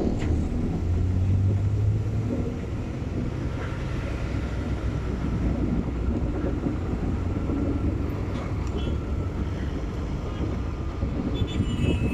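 A manual car cruising in second gear, its steady engine drone and road rumble continuous and even throughout, with no speech.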